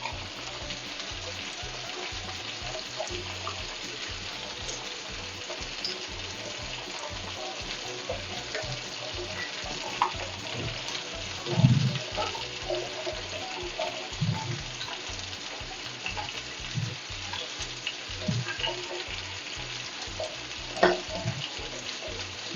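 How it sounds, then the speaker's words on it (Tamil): Fish curry (meen kulambu) simmers in a pan with a soft, steady bubbling and sizzling, quiet and continuous, with occasional small pops and stirring knocks. "இப்போ வந்து நல்லா குழம்பு கொதிக்குது."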